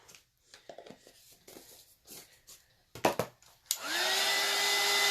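Hair dryer blowing on chalk paste over a stencil, switching on after a few seconds of rustling and handling noises, then a loud steady whir with a rising tone.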